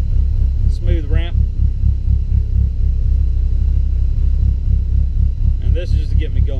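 A GM car engine idles steadily with a low, even rumble during MAF idle tuning, heard up close, while a person talks briefly over it twice.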